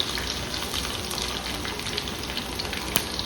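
Mustard seeds, cumin, dried red chillies, garlic and a pinch of fenugreek fry in hot oil, giving a steady close crackling sizzle with a brief sharp pop near the end and no talking.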